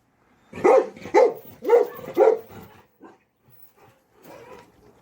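Three young puppies bark in four quick, loud yaps in a row, then give a few faint, scattered whimpers and softer yips close by.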